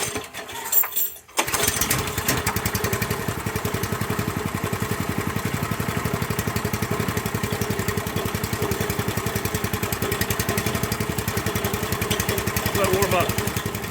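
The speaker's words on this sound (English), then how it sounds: "So I'm going to fire it up and start running quartz through it." A rock crusher fired up to run quartz starts after a second of near silence, then settles into a loud, steady rhythmic pounding and mechanical clatter that keeps going, with a voice faintly under the din.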